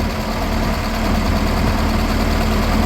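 A Ferguson tractor engine idles through a new exhaust system, a steady, loud, low throbbing chug that holds an even rhythm throughout with no speech.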